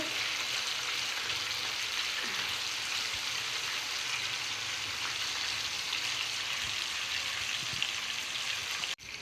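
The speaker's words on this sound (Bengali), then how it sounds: "চিকেনটা আমি বেশি কড়া করে ভাজবো না হালকা হালকা করে ভাজবো" Small pieces of chicken frying lightly in hot oil in a home kitchen, a steady soft sizzle and crackle like light rain that holds evenly throughout, ending with a brief clatter.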